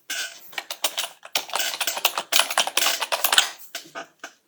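Rapid, irregular keystrokes on a computer keyboard while a folder name is entered in Canva: close, crisp clicks in quick bursts with short pauses, with no talking over them.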